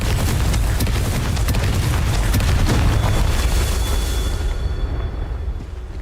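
Confringo blasting spell explosion in the video game Hogwarts Legacy, a loud continuous roaring boom with rumbling debris that fills the clip before tapering off near the end, with no voices.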